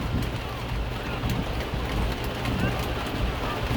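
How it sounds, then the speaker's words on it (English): Heavy rain pours steadily during an outdoor sports practice, a dense close hiss with scattered drops and soft thuds, continuous and fairly even in level. "I came a half hour early because it's raining."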